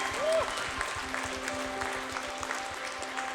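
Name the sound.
applause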